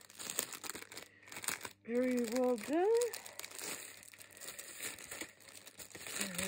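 A heavy-duty plastic bag crinkles and rustles while being opened during an unboxing, with bursts of handling noise under a person speaking nearby.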